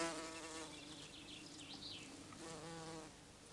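Flying insects buzzing close by, a continuous droning whine with shifting pitch that rises and falls as they move, faint overall and with no voices.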